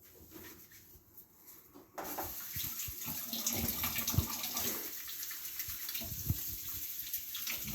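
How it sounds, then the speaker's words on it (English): A kitchen tap is turned on and runs steadily for hand washing before baking cookies, a quiet start then a continuous hissing stream with small splashes and knocks as hands move under it. "Wash your hands."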